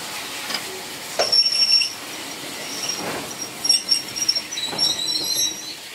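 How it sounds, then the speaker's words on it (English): A steam-hauled demonstration freight train rolls past at a heritage railway gala at Swanage, with moderate rumbling, squealing wheel flanges and intermittent clanking of wagons, fairly distant and without speech. "This is a demonstration freight train."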